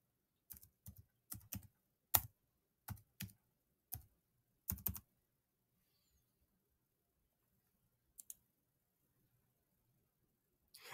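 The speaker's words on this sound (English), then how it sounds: "I'll type it again." Computer keyboard being typed on, a string of close, crisp keystroke clusters over about five seconds, then a long silence broken by a couple of isolated taps.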